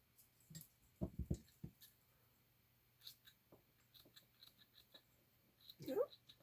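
Scissors trim tied craft material for a butterfly paperclip, a quick burst of close snips near the start and a few scattered softer cuts and rustles afterward in a quiet room.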